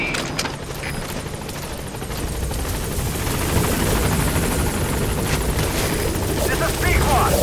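The Pequod helicopter in Metal Gear Solid V comes in to a landing zone, its dense rotor and engine roar growing steadily louder, with a voice partly under it.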